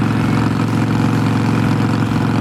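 A vehicle travels on the road, its engine producing a loud, steady low drone with rhythmic pulsing and continuous road rumble heard from inside the cabin.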